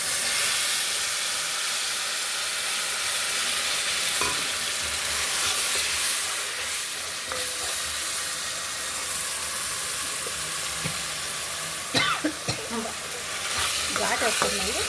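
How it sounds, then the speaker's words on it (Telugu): Tamarind juice hits hot oil with fried dried red chillies and curry leaves for Andhra-style tamarind rice, giving a loud, steady sizzle and hiss throughout, with a few sharp spatters and stirring clinks near the end. "ఇప్పుడు చింతపండు పులుసు పోసేద్దామండి."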